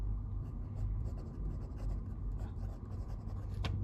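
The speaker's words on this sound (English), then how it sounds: "let's do a writing sample here on some 80 GSM rodeo paper" A fountain pen with a fine nib scratches across 80 GSM Rhodia paper, with close, soft, irregular strokes that carry on steadily and end in a brief sharper tick.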